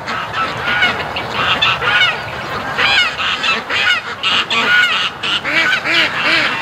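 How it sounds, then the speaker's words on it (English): Several geese on a farm with ducks honk an alarm in repeated loud, close, overlapping calls, a raucous chorus that keeps going with only brief gaps. "Goose Lee, sounding the alarm."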